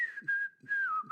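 A single person whistles a short, clear tune up close, the pure tone gliding in pitch through a few brief phrases, with no other sounds around it.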